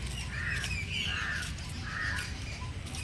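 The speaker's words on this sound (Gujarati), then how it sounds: "સવાર સવાર પક્ષીઓનો કલરવ" Crows caw in the morning around a village temple with an old banyan tree, three or four harsh calls at moderate distance over a constant low background hum.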